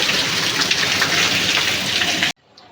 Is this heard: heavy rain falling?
yes